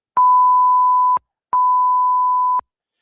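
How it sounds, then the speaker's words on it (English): Two identical censorship bleeps from a bleeper button, each a steady loud tone lasting about a second, separated by a short gap of silence. "I have a bleeper button that comes on the thing"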